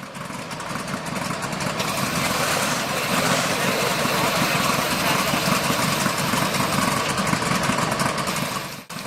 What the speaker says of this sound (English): these Hellcats also have a radial engine, just like the Sherman